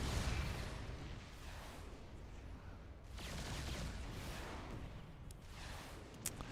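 Yamato Cannons firing in a StarCraft II match: heavy rumbling blasts and booming bursts roll continuously under the game's soundtrack, with a few sharper pops near the end.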